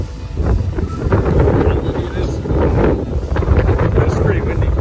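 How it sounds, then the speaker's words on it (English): Strong gusting wind on a bitterly cold winter day at about -34 with wind chill, blowing steadily and loudly across the microphone outdoors near a van in snow. "It's pretty windy."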